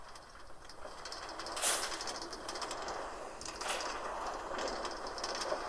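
A short metro train ride in Prague, carrying a faint, steady rumble of the moving carriage with light clattering and brief metallic squeals, heard from inside the car.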